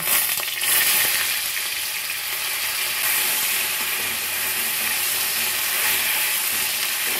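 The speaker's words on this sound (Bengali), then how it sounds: "তেলে একটা শুকনো লঙ্কা আর একটা তেজপাতা ছিঁড়ে দিচ্ছি এবং হাফ চামচ পাঁচফোড়ন আর 1 চামচ গ্রেট করা আদা দিয়ে দিচ্ছি" Dried red chilli, torn bay leaf, panch phoron and grated ginger fry in hot oil with a loud, steady, close sizzle and crackle that holds evenly throughout, with no voices.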